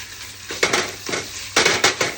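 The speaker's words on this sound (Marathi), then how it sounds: "खवा पण भाजून घेऊ थोडा तुपामध्ये।" Khoa (milk solids) roasts in ghee in a pan while a spatula stirs it, sounding as a few scraping, crunchy strokes over a soft background hiss, close and with no talking.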